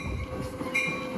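An Amtrak San Joaquin passenger train, Train 710 southbound to Bakersfield, approaches Antioch station cab car first, with a faint rolling rumble, light rail clatter and a brief high whine, heard from the platform at moderate distance.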